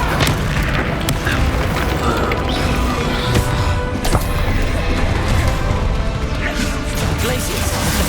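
Incendio fire spell blasting during a heated battle in Hogwarts Legacy, a loud continuous roar of booms, crashes and magical impacts layered densely with game music, with voices shouting over it.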